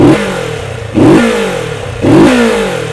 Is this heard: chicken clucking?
no